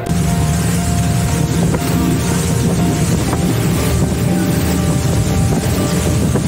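A speedboat on open sea on the way to Phi Phi Island, Thailand, with a loud, constant engine roar, rushing water and heavy wind buffeting throughout, no voices.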